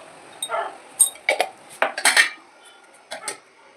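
A metal spoon scrapes and knocks against a cooking pan while ash gourd is stirred, several sharp irregular metallic clinks and scrapes separated by brief quiet gaps, close up with no talking.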